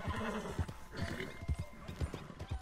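A horse in Red Dead Redemption 2 clops along with steady, rhythmic hoofbeats, and a whinny rises partway through, all fairly close and clear.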